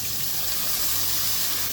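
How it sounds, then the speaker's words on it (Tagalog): Vinegar pours into a pan of adobo sa patis, a steady, close liquid rush that runs unbroken and fairly loud. "Lagyan suka."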